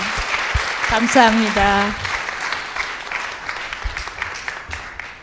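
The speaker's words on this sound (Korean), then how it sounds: "크게 박수 보내주시기 바랍니다" A hall audience at a Christian letter-reading lecture claps, with a voice speaking briefly over the start before the clapping thins into scattered, fading claps.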